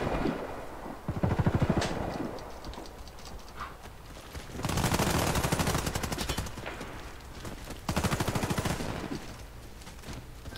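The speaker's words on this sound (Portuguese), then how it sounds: "Essa arma aqui é mais melhor que a M16" Automatic weapon fire in a video game: three long, loud bursts of rapid rattling shots, with quieter stretches of scattered firing and background game noise in between.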